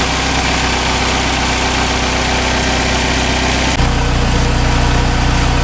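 A Saturn Sky's newly installed 2.4L turbo engine idles loudly and steadily close by on first start-up, burning off lubricant, a rough constant rumble whose tone shifts slightly partway through.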